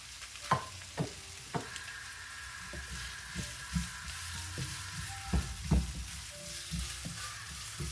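Chopped garlic goes into a hot pan for a native chicken dish with pepper leaves and Serrano pepper, giving a faint, steady sizzle broken by several sharp clacks of a utensil stirring against the pan.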